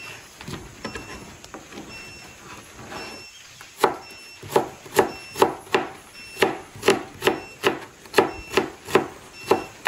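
A knife chops tomato and onion for vinaigrette in close, steady, rhythmic strikes. The first are soft and scattered, then about a dozen sharp, evenly spaced chops land in a brisk beat.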